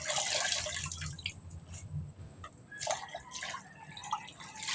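Harvested kangkong is washed by hand in water, with splashing, dripping and trickling sounds at close range, irregular and stop-start as the greens are swished and lifted.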